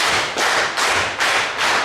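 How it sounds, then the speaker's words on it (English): A high school show choir claps hands loudly in unison, four sharp, evenly spaced group claps, each ringing out briefly before the next. "Come on everybody and clap your hands real loud."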